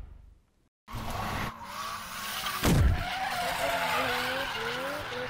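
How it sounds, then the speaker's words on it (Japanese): Toyota GR Yaris RZ High Performance with a strut tower bar driving at 100 km/h on a course, its engine note rising steadily through the gears with continuous road and wind roar after a brief silent start. "では時速100キロ高速走行の動画です。"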